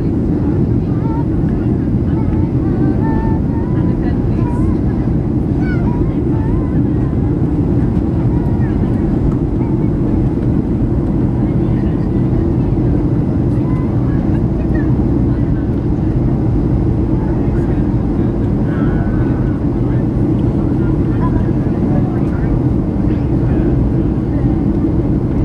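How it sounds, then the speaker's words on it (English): Inside a Jet2 Boeing 737-800 cabin in flight to Malaga, a loud, steady, low engine and air roar drones without a break, with faint higher hiss above it. "Boeing 737-800 jet 2 aircraft. We're flying to Malaga."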